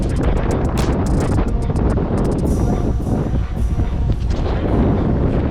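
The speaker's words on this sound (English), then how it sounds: "It's blowing like crazy" Strong wind buffets the microphone continuously, a loud, roaring rush with gusty swells on an exposed shore at Nahant, with no voices.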